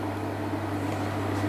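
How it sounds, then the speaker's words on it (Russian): An electric kettle heats on a portable induction hob, giving a steady low electrical hum with a broad even hiss of warming water, continuous and fairly loud with no talking. "Кипячу чайник."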